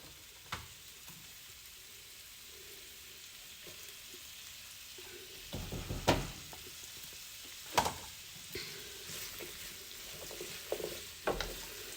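Tomato paste fries with lamb shanks and onion in a hot pot, a soft steady sizzle broken by several louder scraping stirs and clatters.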